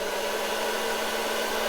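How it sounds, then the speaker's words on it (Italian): A hair dryer runs on fan only with the heat off, powered by a portable power station, giving a steady, loud, unbroken whooshing hum with a faint tonal drone underneath, alone and without talk. "sperando che il rumore del phon non dia fastidio all'audio"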